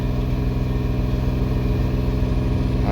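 A car engine is held up at its rev limiter, a loud steady droning roar that stays constant throughout with no pause or talk.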